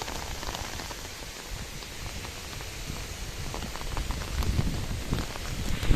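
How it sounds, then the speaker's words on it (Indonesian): Rain and wind during a fishing trip, a steady hiss of rain pattering on surfaces with gusty low rumble building toward the end, no voices. "Hujan angin."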